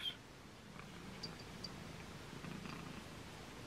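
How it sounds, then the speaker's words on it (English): A pet cat purring loudly while being stroked and hugged, a soft steady low rumble held close throughout, with a few faint high clicks on top. "Don't know if you can pick up Robin's purring, but she's being very loud right now and very huggy"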